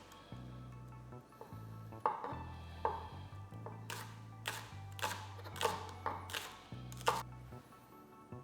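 A knife chops spring onions on a cutting board in a series of sharp, close knocks, some quick bursts and some spaced beats, over a low steady hum.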